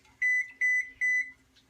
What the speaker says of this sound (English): And that's my oven preheating, if you heard that beep.